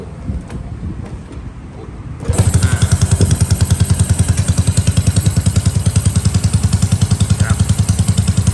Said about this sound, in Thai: เสียงเครื่องเงียบโอเคเลยนะครับ